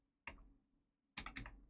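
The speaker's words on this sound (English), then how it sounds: "What's wrong with my keyboard?" Two short bursts of computer keyboard typing, quick clustered keystroke clicks separated by a pause, close and fairly quiet with no talking.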